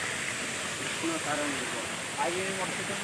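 A waterfall pours in a steady broadband rush, loud and continuous, with faint voices drifting over it at times.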